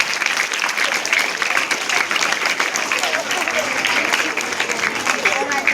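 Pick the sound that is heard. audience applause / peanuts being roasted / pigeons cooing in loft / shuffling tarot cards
audience applause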